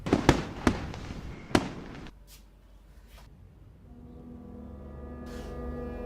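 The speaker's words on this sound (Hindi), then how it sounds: "अब तो मन करता है आराम से छत पे लेट के आसमान में रंग बिरंगे स्काई शॉट देखो।" Sky shot fireworks bursting overhead as sharp, loud booms, four quick blasts in the first two seconds, followed by faint distant crackles and a low rumbling hum with no voices.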